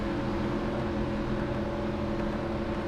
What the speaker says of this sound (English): Now the drivers revving their engines